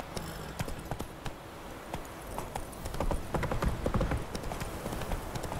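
Roach, the horse in The Witcher 3, gallops with rapid, dense hoofbeats over game ambience, growing louder partway through, with no talk.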